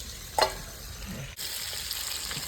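Spice masala fries in a pan for a restaurant-style kala bhuna chicken curry, a quiet close sizzle with a brief stirring scrape and clatter near the start, no voices.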